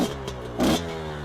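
Kayo KT 250 two-stroke motorbike engine revving, a brief burst of rising throttle over a steady idling drone, close and fairly loud.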